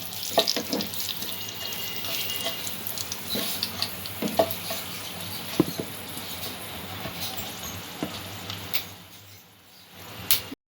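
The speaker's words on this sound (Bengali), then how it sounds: "অল্প একটু নাড়াচাড়া করে নেবো ফোড়নটা।" Whole spices temper in hot oil in a pan for peas and paneer pulao, giving a steady close sizzle. Occasional scraping and tapping from stirring sounds over it, and the sizzle thins out near the end.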